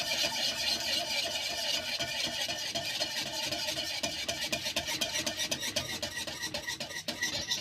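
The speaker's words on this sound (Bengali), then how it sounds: "আবার ভালো করে গুলিয়ে নেব।" A spoon scrapes and stirs a thick gujiya filling mixture with freshly ground cardamom in a pan, a continuous close rasping swirl that runs steadily for several seconds with no talk.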